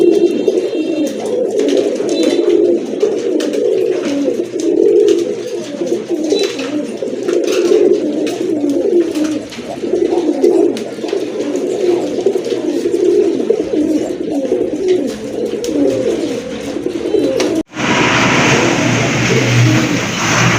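Pigeons, including Rajgolla pigeons, coo steadily in low, throaty murmurs throughout, with a passing vehicle revving in the background and a brief cut near the end.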